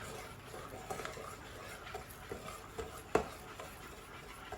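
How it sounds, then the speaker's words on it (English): Melted butter stirred into eggs in a bowl for low carb keto brownies, giving quiet scraping and tapping of a utensil with one sharper clink. "I'll just add those into the eggs, giving them a good stir."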